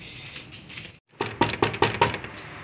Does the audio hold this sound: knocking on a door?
yes